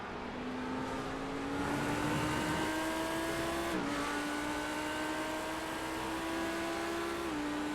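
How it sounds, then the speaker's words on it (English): An Audi race car engine in iRacing at Sebring screams at high revs, pitch climbing steadily through the gears with a brief drop at a shift midway, loud and continuous with no talk. "Although the Audi engine note"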